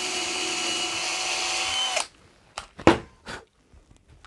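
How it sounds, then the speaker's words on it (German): A power drill whines steadily for a couple of seconds then stops abruptly, followed by a few short knocks and clicks. "Einfach mal ein Loch bohren."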